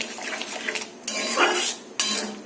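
Chickpea ghugni, kabuli chana with onions cooked down, being stirred in a pan with a little water, giving close clinks and scrapes of a utensil against metal in short bursts with brief pauses between.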